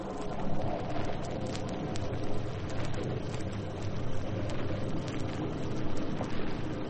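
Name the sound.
heavy rain sound effect in radio drama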